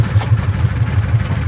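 A Kawasaki Mule utility vehicle idles on Isla Contadora, Panama, its engine giving a steady, low, pulsing rumble close by, with no one talking.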